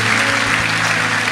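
A church congregation claps loudly and continuously for a short burst, a dense, even wash of applause with no pauses.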